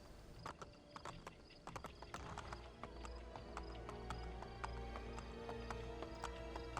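A horse in the video game Assassin's Creed Brotherhood gallops with steady, rhythmic clip-clop hoofbeats up close, continuous over a low in-game background hum.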